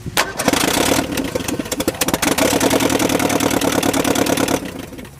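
A freshly installed engine in a drift project car cranks loudly on the starter during its first test fire, a steady rapid chugging that runs for about four and a half seconds before stopping.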